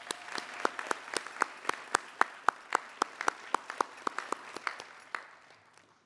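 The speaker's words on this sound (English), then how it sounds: "please let's give your families and friends a good round of applause." Scattered, fairly faint hand claps ring out in a quick, even rhythm during a college commencement ceremony, tapering off at the end.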